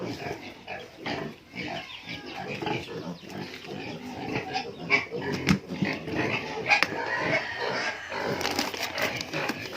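Piglets at feeding time squealing, grunting and oinking in a close, busy chorus, with clatter and snuffling throughout and occasional faint human sounds in the background.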